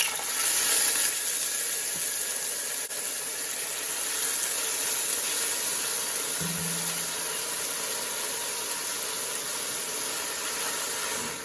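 Green onion mixture sizzles in hot oil for a Congolese fumbwa stew, a steady hissing crackle that starts loud and settles into a continuous even sizzle, with no talking.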